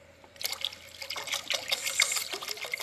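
Water pours into a cooking pot for Filipino fish and mango sour soup, a steady trickling splash starting abruptly and continuing close by.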